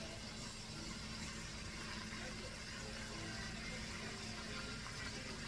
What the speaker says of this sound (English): Okay, we're gonna drain the noodles.